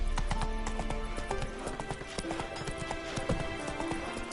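Horse hooves clip-clop at a steady trotting rhythm in the video game The Witcher 3, close and continuous over quiet ambient game sound.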